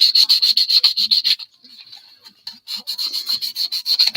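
A model car body being hand-sanded with 400 grit sandpaper, quick rhythmic rasping strokes in close bursts, pausing briefly midway before the scraping resumes at the same brisk pace.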